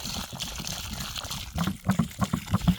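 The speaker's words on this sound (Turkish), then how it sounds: "Köküne can suyu. Köküne değecek şekilde." Water is poured onto the roots of a newly planted walnut sapling, a steady close splashing trickle that turns into denser gurgling pulses toward the end.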